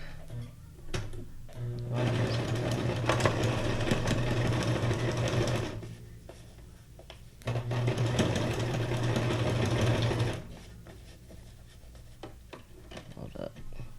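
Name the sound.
sewing machine sewing a zigzag stitch on journal pages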